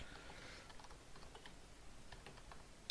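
Typing on a computer keyboard during website form setup, a steady run of faint, close key taps over low room hiss, ending in one sharper click.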